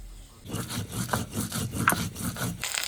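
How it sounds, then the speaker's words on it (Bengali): Cumin seeds are ground on a stone pata slab with repeated rough scraping and rubbing strokes. The rhythmic, close and fairly soft grinding strokes come alone. "এখন জিরেটা এখন আমি পাটাতে নিয়ে নিলাম"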